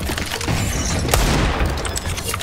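A grenade goes off in a multiplayer shooter game as a loud, dense burst of explosive noise. It rumbles and crackles for a couple of seconds amid gunfire, with no one talking.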